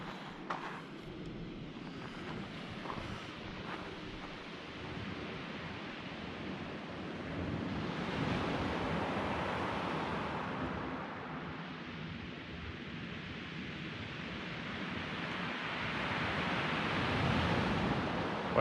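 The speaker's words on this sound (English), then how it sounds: "the tide comes in pretty quick down here" Ocean waves washing in on a shore as the tide comes in fast while fishing, a steady broad roar of surf that swells and recedes, with wind buffeting the microphone and no talking.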